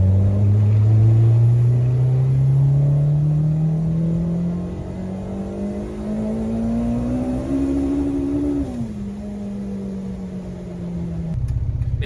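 A K-swapped Mini Cooper pulls hard through the gears from inside the cabin: a steady, loud engine drone rises slowly, then drops at a shift and settles into a lower, fading hum.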